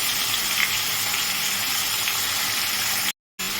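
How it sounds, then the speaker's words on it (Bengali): Continuous crackling sizzle of a rohu fish head frying in hot oil, steady and close, ending with a short silent break near the end. "আমি ভালো করে ভেজে নিচ্ছি"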